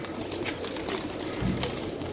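Pigeons, including brown-necked and khaki birds in a loft, coo softly and repeatedly against a steady background hum.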